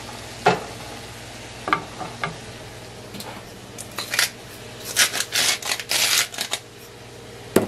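Cut cherry tomatoes cooking in a hot pan on a home stove, with a steady soft sizzle broken by stirring clacks and scrapes of a utensil that grow busier toward the end.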